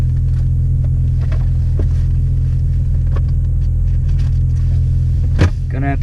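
A 2015 Ford Focus ST with a Cobb Accessport tune rolls along the road, its low engine and road rumble droning steadily inside the cabin, with a few faint clicks and a brief thump near the end.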